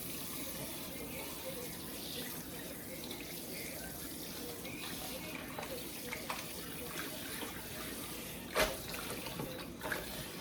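A kitchen tap runs steadily into a sink while food for pepper steak is rinsed, a constant moderate water rush with a couple of brief splashes or clinks near the end.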